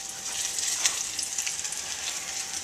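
Flowers fry in hot oil, sizzling and crackling steadily at close range, a continuous bright frying hiss with small pops.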